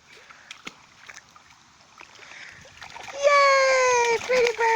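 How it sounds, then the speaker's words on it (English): A pet goose splashes in a deep puddle, with soft sloshing water that builds into louder splashing, then a strong tonal call near the end. "Are you splashing or what?"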